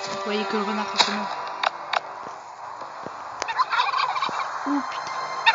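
Turkeys gobble in the survival video game Last Day on Earth, a warbling gobble near the start and a shorter one near the end, among scattered game clicks and taps over a quiet ambient hiss.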